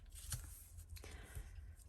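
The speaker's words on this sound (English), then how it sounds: "So, wee little scissors it is." Small craft scissors snipping paper for a planner layout, a few faint close crisp cuts over a low background hum.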